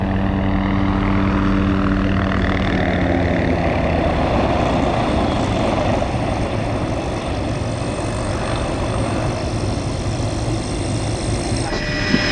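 A helicopter flies a practice autorotation landing with no engine power, giving a steady loud rotor and engine drone that stays continuous and close throughout, with no talk.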